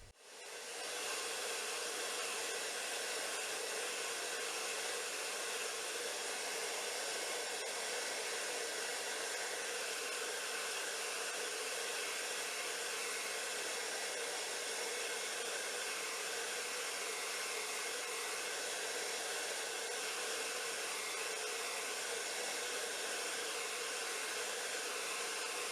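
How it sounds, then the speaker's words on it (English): A hairdryer on medium heat blows steadily onto a metal lab coupon, a loud constant whooshing hiss that runs unbroken from start to finish with no voices. "the coupon is given a final thorough drying with a hairdryer set to medium heat"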